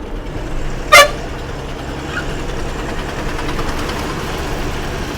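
A short single horn toot from a vehicle on a road trip toward Udaipur, heard once over the steady rumble of a truck engine running throughout.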